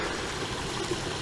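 Rainwater runs steadily through drainage channels along a street in Ashiya City, Hyogo, a continuous close rushing trickle with no talk.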